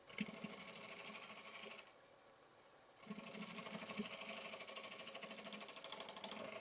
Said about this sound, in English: Using my skewed scraper here.